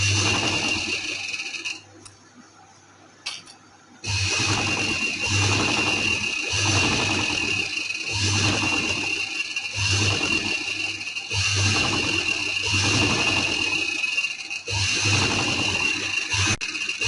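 A sewing machine stitches trouser fabric of lawn or cotton in a steady mechanical run, with a short pause early on before the motor resumes its even, slightly pulsing whir.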